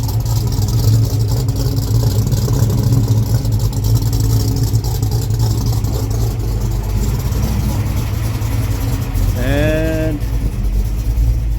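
A 347 V8 idles steadily and loudly throughout, a constant low engine rumble, with a brief voice and a short tonal chirp near the end.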